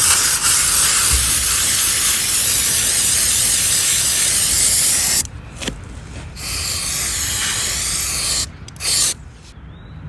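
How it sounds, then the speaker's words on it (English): An aerosol can hisses loudly in a long continuous spray onto a 2023 Honda Rebel 500 motorcycle's chain area, about five seconds, followed by a few shorter bursts with brief pauses between. "spray this down"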